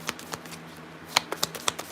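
Tarot cards being shuffled by hand, a run of crisp flicking riffles with sharp clustered snaps toward the end, close and fairly quiet with no talking.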